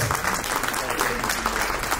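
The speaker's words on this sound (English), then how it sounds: "Round of applause." A short burst of steady audience applause at a Black History Festival event, even and fairly close, with no break in the clapping.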